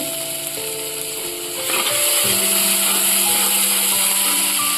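Onions frying in a pan for a Bengali fish curry, a steady sizzle with some stirring and scraping, while a faint tonal hum and background noise sit underneath.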